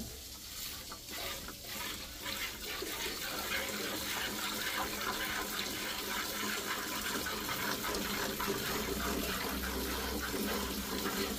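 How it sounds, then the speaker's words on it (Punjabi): Milk streams from the rear teats of a cow being hand-milked on a dairy farm, a steady wet spraying hiss into a pail that runs continuously throughout at close range with no talk. "ਪਿਛਲੇ ਥਣਾਂ ਦਾ ਵੀ ਚਵਾ ਦਿਖਾ ਦੇ, ਸਾਡੇ ਬਿਲਕੁਲ ਸਾਫ਼ ਧਾਰ ਆ।"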